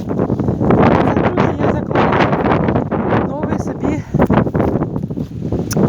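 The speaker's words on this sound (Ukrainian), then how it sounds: "сьогодні вітер сильний" Heavy wind buffets the microphone outdoors in a strawberry garden with loud, continuous rumbling gusts, nearly drowning out a voice speaking underneath.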